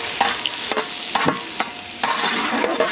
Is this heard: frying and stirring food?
yes